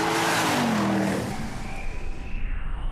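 Audi RS6 (C5) saloon at about 175 mph, a loud sustained engine roar with a falling pitch that settles into steady wind and road rush.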